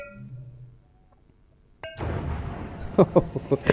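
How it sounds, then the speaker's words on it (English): A faint tone fades out, then a Minecraft end portal's sudden whooshing activation swells into a droning rumble with several sharp bright bursts on top. "Let's activate the portal."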